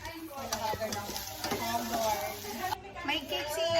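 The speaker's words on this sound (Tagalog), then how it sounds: "Sauce na yung niluluto nila." Sauce cooking and being stirred in a pan at a child's birthday party, with soft sizzling and repeated scraping taps under ongoing background voices and tonal sound.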